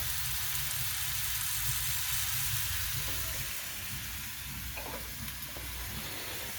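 Steady hiss and crackle of onions frying in a hot pan for menemen, continuous and fairly quiet, with no voices.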